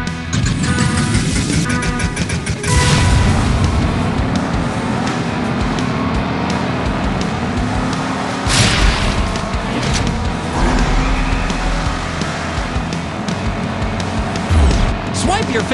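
Arcade-style car racing in the mobile game Jot Wheels, with a steady engine roar and loud bursts throughout, under a mix of game music and effects.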